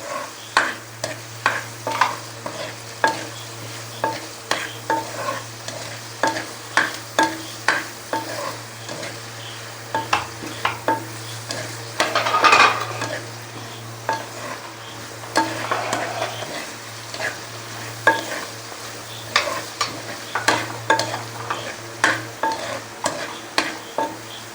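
Dried turkey berries and okra sauté in a pan with a low steady sizzle, while a spoon stirs and scrapes in a fairly regular rhythm of sharp close knocks.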